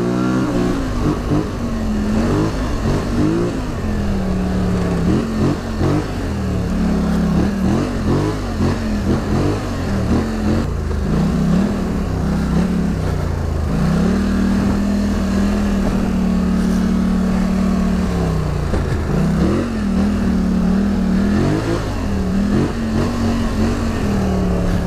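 A Renegade off-road quad drives and revs with a loud, close engine roar that rises and falls in repeated throttle bursts, holding steady pitches in between, continuous for about twenty-five seconds.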